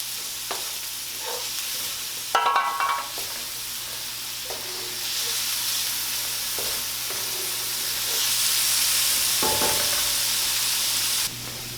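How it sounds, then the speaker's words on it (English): Vegetables stir-fry in an oiled wok over medium heat, a soft continuous sizzle broken by a few scraping and stirring clatters, the hiss swelling brighter toward the end. "Begin with stir-frying the vegetables by heating oil in a large wok or pan over"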